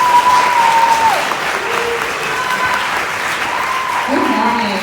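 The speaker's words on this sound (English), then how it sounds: "join me in giving a big round of applause for Miss Leah Porter" Applause from an audience at an elementary school Black Excellence event, a steady wash of clapping that fills the whole stretch at close, even loudness, with a brief tone and faint murmurs underneath.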